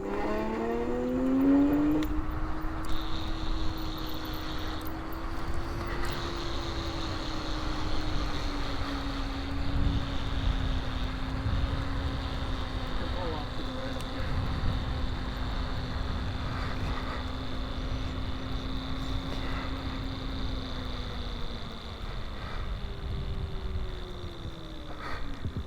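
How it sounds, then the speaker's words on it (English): Electric-converted Honda CB160 and Honda S190 motorcycles, the S190 running on 80 volts, ride close past a wall, giving a steady motor whine that rises slightly and holds over continuous road and wind noise throughout. "These are my two Hondas that I've converted into electric."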